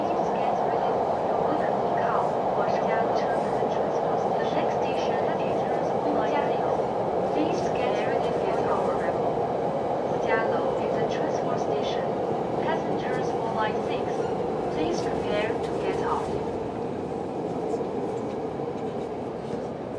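A train rolls into a station with a loud, sustained rumble of wheels on rail. Brief metallic squeals and clacks run through it, and the sound eases slightly toward the end as it slows.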